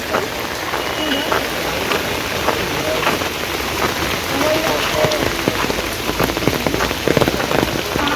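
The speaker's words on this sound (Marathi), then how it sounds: "बघूया काय कसा मुसळधार पाऊस पडतोय" Heavy evening monsoon rain pours steadily near a creek, a dense hiss of drops drumming on surfaces close by, unbroken for the whole stretch with no talking.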